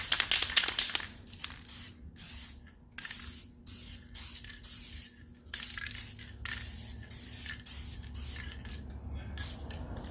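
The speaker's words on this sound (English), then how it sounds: "We're going to spray a dust coat on here." Inexpensive enamel spray paint hisses as a dust coat goes onto a car body during dent repair, in a series of short bursts separated by pauses, near and steady, with a faint low hum underneath.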